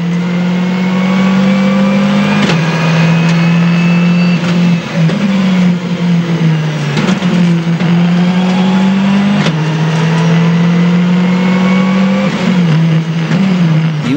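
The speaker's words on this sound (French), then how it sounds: "Chrono suivant, 14 km, Patrick Henry est au départ" A rally car attacks a 14 km special stage of the 2007 Rallye du Mont-Blanc, its engine roaring loud and close with steady high revs, sharp gear changes and brief lifts of the throttle throughout, with no voices.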